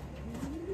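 A racing pigeon from a Florida pigeon derby gives a soft, low coo rising in pitch, faint and close against a quiet background hum.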